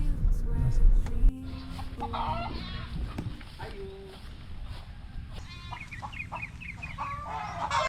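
Native Darag chickens in a flock of about eighty cluck and call around a farmyard, with steady overlapping bird sounds, voices talking in the background and brief louder bumps near the start.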